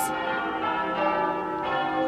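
Wedding church bells ringing with a sustained, resonant tone, strikes overlapping into a continuous wash of pealing.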